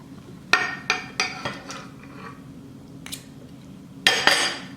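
A knife slices into a peach-flavored pork loin roast cooked in a crock pot, giving a series of close, sharp metallic clinks and taps against a dish, with a louder scraping clatter near the end.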